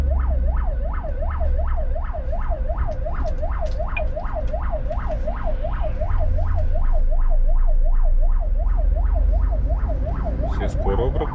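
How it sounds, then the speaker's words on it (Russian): An ambulance siren wails in a steady, fast up-and-down cycle on a road out of Novosibirsk, loud and close over constant traffic rumble, with no voices. "Все скорую пропускают."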